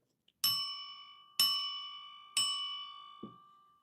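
Bell marking the end of a quiz question: three clear, ringing strikes about a second apart, each decaying slowly, followed by a softer knock.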